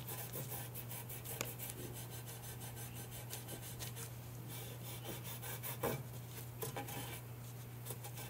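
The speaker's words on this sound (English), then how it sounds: "And then just rub it on." Rag rubbing finish onto a translucent Halloween witch craft surface, a faint, close, repeated soft scrubbing over a steady low hum.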